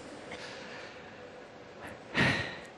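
A male crosstalk comedian on stage gives one short, fairly close throat-clearing burst near the end, after a quiet stretch of faint breathy noise.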